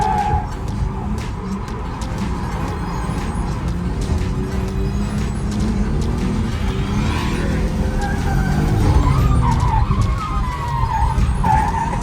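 A Nissan Skyline R34 drifting at Fuji Speedway, engine roaring and wavering as the tires skid and squeal continuously, loud and close with a rising howl toward the end.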